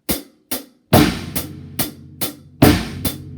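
A drum set pattern lands on the third and seventh eighth notes: crisp, evenly spaced hits with two heavier, louder strikes standing out, played alone and close.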